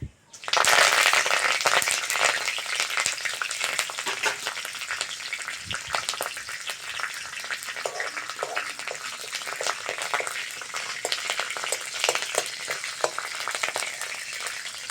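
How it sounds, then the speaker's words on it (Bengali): Dried red chillies, whole cumin and curry leaves hit hot oil and burst into a loud, steady sizzle that crackles and spits without letup. "তেলের মধ্যে দিয়ে দেবো দুটো শুকনো লঙ্কা আর গোটা জিরে।"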